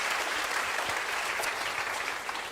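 A church congregation applauds, a continuous, even wash of many hands clapping at moderate distance, sustained without pause and with no voices standing out.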